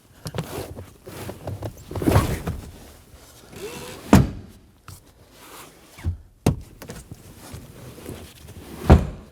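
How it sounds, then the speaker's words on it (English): Rear seats of a 2011-2016 Kia Optima are pushed closed, giving several solid thuds and clunks spaced a couple of seconds apart amid handling noise. "Go ahead and close the seats."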